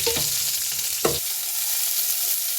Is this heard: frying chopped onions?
yes